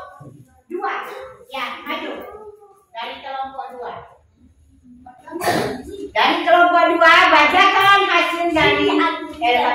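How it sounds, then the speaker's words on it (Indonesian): Classroom of young schoolchildren breaking into hand clapping near the end, mixed with excited children's voices after an adult speaks earlier. "Bawa sekarang tepuk tangan."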